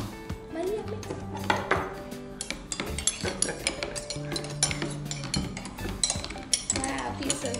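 A spoon stirs an agar mixture in a dish, producing repeated clinks and scrapes of utensil against the dish over a musical background.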